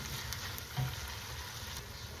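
Sardines and pork belly sizzle steadily in a hot pan, with a faint scrape of stirring partway through.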